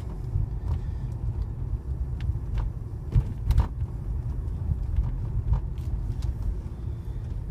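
A car driving slowly along a dead-end campus street, heard from inside as a steady low road rumble with a few bumps and knocks, and no one talking.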